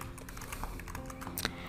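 Quick, light keystrokes patter on a computer keyboard during data entry, a soft irregular run of clicks close by with one sharper tap near the end.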